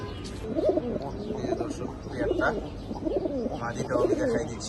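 Old-generation chila pigeons coo in repeated low, rolling bursts, several birds close by, with a steady background hum throughout.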